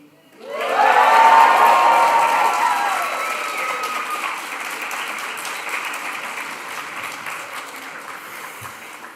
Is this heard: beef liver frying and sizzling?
no